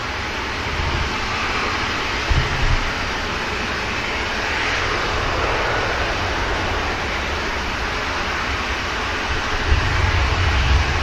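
Ryanair jet airliner departing Manchester Airport, a steady broad roar of engines at moderate distance, with a couple of brief low thumps and no voices.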